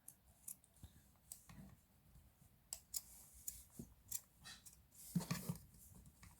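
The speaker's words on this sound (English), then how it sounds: "now you need to cut off the excess with a simple snip" Scissors snip excess fabric from handmade Barbie doll clothes, with a series of quiet, close, crisp cutting clicks spaced irregularly and a slightly louder snip near the end.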